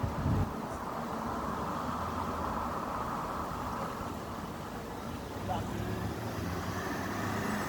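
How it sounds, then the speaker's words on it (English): Cars pass along a road near a crash scene, a continuous broadband wash of tyre and engine noise that swells and fades as vehicles go by. "Wait till these cars bugger off."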